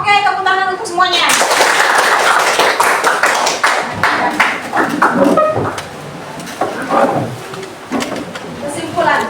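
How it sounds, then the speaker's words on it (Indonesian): Applause from a class of students, a loud burst of clapping that gradually thins out and fades, mixed with chatter and voices from the room. "Oke, tepuk tangan untuk semuanya."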